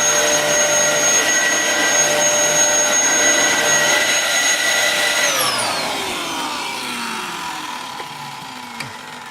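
A Dyson DC07 Origin upright vacuum cleaner runs loud and close, fitted with a new cable after a light service, its steady whining drone dropping in pitch as it winds down toward the end.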